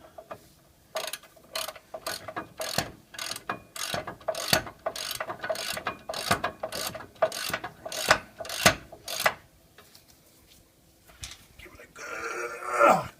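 A hand ratchet tightens 18 mm rear brake bolts on a 2001 Ford Expedition, giving fast, close, regular bursts of metallic clicking with brief pauses. A louder rustle follows at the end.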